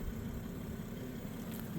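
A BMW M140i's turbocharged straight-six petrol engine idles, a low, steady rumble with a faint hum heard close up and no other sounds.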